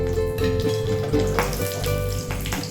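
Cloves, a piece of cinnamon stick and slit green chillies sizzle in hot oil, a close, bright, crackling fry with some spattering and occasional stirring.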